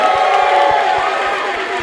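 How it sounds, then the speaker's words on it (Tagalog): At a rap song competition a crowd cheers and applauds loudly, with shouts and whoops rising over dense clapping, everyone close and filling the space, and one voice calling out in the mix. "amin pong inihingi ang malupit na palakpakan at sigawan ng Bahay Katal!"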